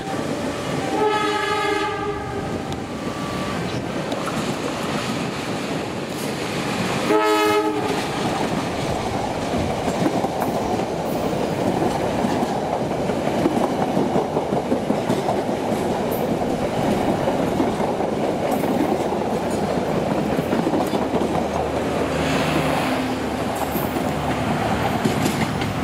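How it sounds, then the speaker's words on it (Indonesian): The Walahar passenger train arrives at Karawang station in Indonesia: a loud, steady rumble of rolling cars with two horn blasts early on, heard close and continuous. "Karena baru saja kereta api Walahar baru datang"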